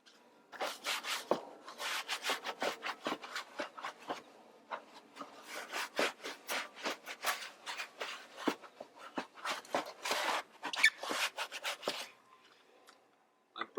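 A brush scrubs a car's wheel well liner in quick, close, rhythmic bristle strokes that come in bursts with brief pauses.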